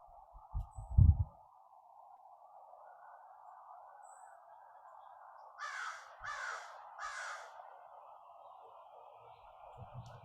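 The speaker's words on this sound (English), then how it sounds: "hearing the crows back in my yard, which are awesome" Three distant crow caws in quick succession stand out over a steady background hum, with a couple of low thumps nearby.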